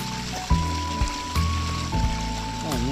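A strong mountain stream flows in the Cordillera countryside, giving a steady rushing hiss throughout with a droning tonal hum layered over it.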